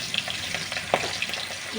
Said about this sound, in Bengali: আস্তে আস্তে হতে থাকুক মাছগুলো ভাজা